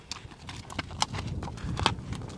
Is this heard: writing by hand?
no